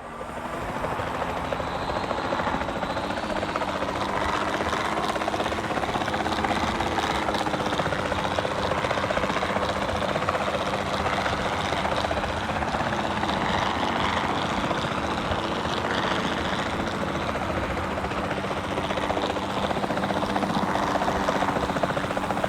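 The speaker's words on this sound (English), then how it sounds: "Then the sensible thing is to take a capture team helicopter." A capture team helicopter in the video game Jurassic World Evolution 2 flies steadily, its rotor and engine drone holding at a constant level throughout with no talk over it.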